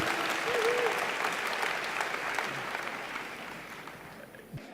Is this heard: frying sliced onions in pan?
no